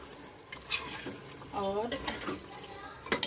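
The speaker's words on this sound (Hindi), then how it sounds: "अब हम 3 से 4 मिनट जो है वो इसको अच्छी तरह से फ्राई करेंगे," Mutton frying with yogurt and taro root in a pot sizzles under the close scrape and clatter of a stirring spoon against metal, with a brief spoken word over it.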